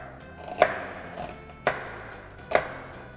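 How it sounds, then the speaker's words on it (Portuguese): A knife chops an onion on a cutting board: three sharp, separate chops spaced about a second apart, close and clear with no talk. "Então a cebola a gente pode cortar com bastante segurança, primeiro na lateral e fazer cortes sem tirar esta parte da cebola"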